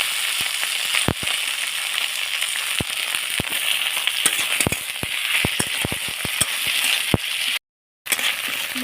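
Onion, garlic and ginger paste fry in a pan with a loud, steady sizzle broken by sharp crackling pops of oil, close and continuous, with a brief cut to silence near the end.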